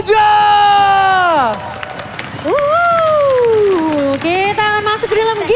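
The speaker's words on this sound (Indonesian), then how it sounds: "mana tepuk tangannya?" A loud crowd at an MPL Indonesia Season 10 Mobile Legends playoff match between Aura and Bigetron, cheering and yelling in long sustained swells with clapping mixed beneath, near and filling the hall.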